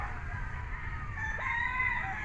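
A Red Kelso gamefowl rooster, a Class AB bull stag, crows once over farm background noise, moderately loud and without talking.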